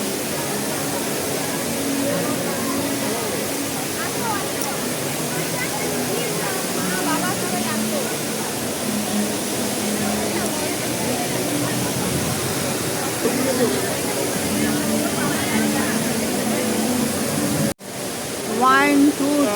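Steady broadband rush of the tall indoor waterfall at Jewel, Singapore Changi Airport, water pouring down continuously with crowd chatter and voices running underneath, ending in a brief cut and a burst of nearer noise.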